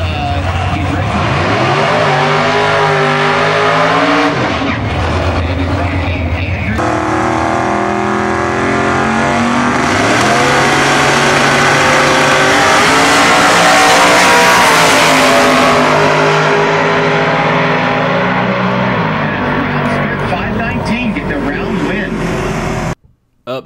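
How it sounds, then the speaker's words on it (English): A twin-turbo small cube big block Chevy-powered Camaro launches down an eighth-mile drag strip at a PSCA Outlaw 10.5 heads-up race, its loud engine roaring and climbing through gears for over twenty seconds under announcer commentary. "the right side of the screen is Andrew Russo in a twin-turbo small cube big block Chevy-powered Camaro, and he is racing Ralph Smith"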